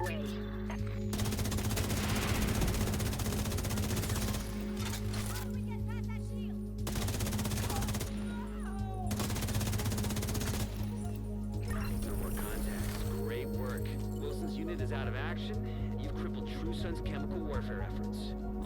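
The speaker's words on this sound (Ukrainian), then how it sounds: "Зроблено і навіть трошки з РПГ постріляли" Rapid automatic gunfire and heavy weapon shots from The Division 2 video game, a dense continuous barrage of bursts layered under game music and voices throughout.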